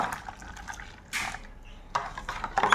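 Water being poured into a pani puri mixture in short splashing bursts, with quiet gaps between pours.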